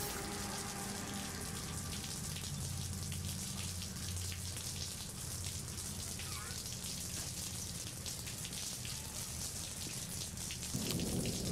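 Continuous rain falls in June, an even, loud hiss of drops with a low background hum underneath, unbroken for the whole stretch and slightly louder in the last second.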